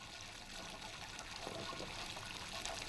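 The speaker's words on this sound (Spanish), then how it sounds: "por el otro extremo del tubo sale el agua mezclada con los aceites esenciales y se recoge en un recipiente llamado" Water mixed with lavender essential oils trickles from the outlet tube of a still into a collecting vessel, a faint continuous dribble with small splashy spatters, no talking.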